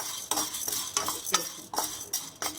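Chana dal roasting in a hot pan, stirred with a utensil in repeated scraping strokes over a soft dry sizzle, close and fairly quiet.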